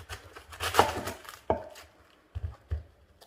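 Knife chopping cabbage finely on a board, a few sharp close cuts in two loose clusters with short gaps between.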